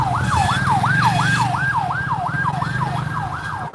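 A wailing ambulance siren in Ghana cycles rapidly and repeatedly over the low rumble of nearby traffic engines.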